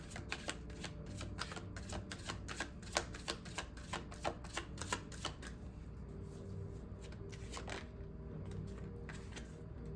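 A deck of tarot cards is shuffled by hand in rapid riffles and flutters, a steady run of crisp papery snaps that thins out toward the end, close and fairly quiet with no talking.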